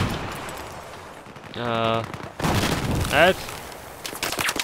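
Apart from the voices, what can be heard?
gunfire in the video game Battlefield 4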